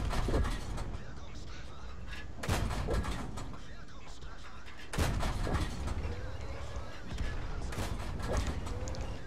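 A DW2 heavy tank's cannon firing APCR rounds in a tank video game, with several sharp, heavy booms at regular intervals. Each is followed by rumbling engine and battle noise, and someone talks over them.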